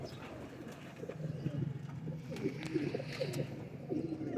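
Pigeons cooing softly and repeatedly in a loft, low rounded calls overlapping at a moderate distance, with faint background noise and no talk.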